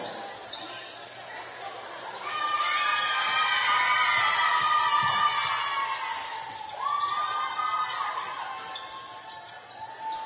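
Spectators cheer and shout at a girls volleyball game between Hilo and the Keaau Cougars, a loud indoor crowd with high young voices swelling and easing over several seconds, with a few voices calling out.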